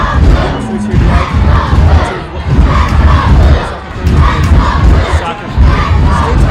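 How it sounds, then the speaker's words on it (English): A loud stadium crowd roars and cheers continuously through a college men's soccer match between Michigan and Michigan State, a broad, sustained wash of voices swelling and dipping in waves. "Hear the crowd. Absolutely loving it."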